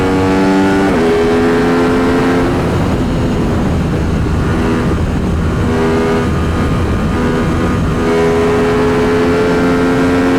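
An RS 660 motorcycle ridden on Ohio country roads, its engine loud and close throughout, revving and shifting through gears with rising and falling pitch over steady wind rush.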